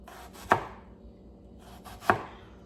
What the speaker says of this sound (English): She wants you to like, I guess, cut the onion like